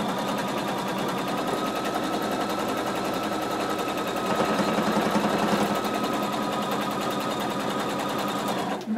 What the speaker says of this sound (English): I just want to stitch this so that it doesn't stretch when we start to sew